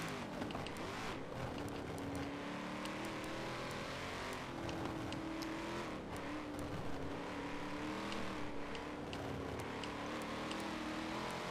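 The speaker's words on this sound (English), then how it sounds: "There we have Huracan now overtaking OTR Furix." A Lamborghini Huracan race car in an endurance racing game at Indianapolis, its engine a steady sustained drone with a wavering pitch as it overtakes another car, continuous and moderately loud with no voices.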